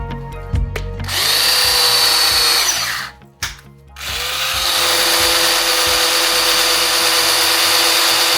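Cordless drill fitted with a brushless motor boring through aluminum: a loud, steady high-pitched whine that spins up, cuts out briefly near the middle, then restarts and holds under load to the end, with no voices.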